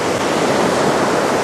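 Sea waves break along a shingle shore near a groyne, a loud, continuous hiss and wash of surf that fills the whole moment without pause.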